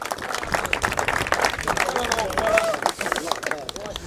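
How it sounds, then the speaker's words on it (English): Applause from the crowd at a fishing team championship, honouring an angler's perch catch; scattered clapping mixed with crowd chatter and some voices, moderately loud and close. "I think he deserves a round of applause."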